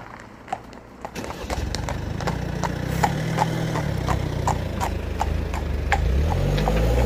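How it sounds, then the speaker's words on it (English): A horse's hooves clip-clop on a road in a steady rhythm of sharp, close knocks, over the low rumble of an idling vehicle engine. "Oh, they're stopping for the horse."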